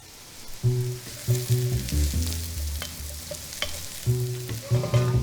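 Mushrooms sizzle in olive oil in a pan for beef stroganoff, a steady frying hiss under repeated clinks and scrapes of a utensil stirring, with no speech.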